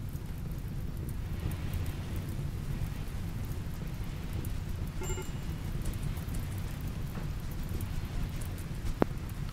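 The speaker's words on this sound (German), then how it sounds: "Ah, es regnet." Rain in the video game RimWorld, a steady loud hiss of rainfall with a low rumble beneath it, a faint tone in the middle and a sharp tick near the end.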